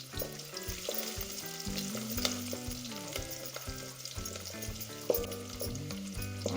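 Ingredients sizzle steadily in a hot pan while cooking Goan prawns mole, a continuous frying hiss with occasional stirring, heard under background music.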